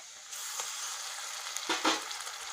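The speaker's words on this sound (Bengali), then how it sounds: "এখন আমি এর মধ্যে আদা রসুন বাটা দিচ্ছি।" Ginger garlic paste dropping into hot oil in a pan for a paneer masala curry, a soft sizzle that starts suddenly and swells with a couple of brighter bursts near the end, close and quiet.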